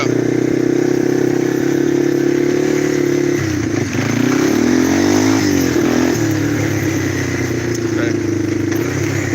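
A four-wheeler ATV engine runs loud and close in first gear, its steady drone dipping and wavering midway as the back brake is mashed, then settling back to a constant rumble.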